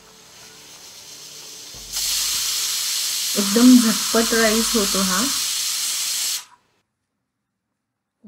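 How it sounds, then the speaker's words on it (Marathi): A pressure cooker whistle vents steam while jeera rice cooks, a loud, sustained hiss lasting about four seconds before cutting off abruptly, with someone speaking briefly over it. "शिट्टी लावायची आहे आणि आपल्याला ह्याला 2 शिट्ट्या घ्यायच्या आहेत"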